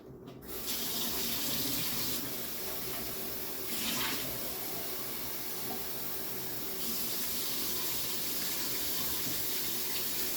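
Tap water runs steadily into a measuring cup, a continuous close splashing rush with no voices, lasting the whole stretch.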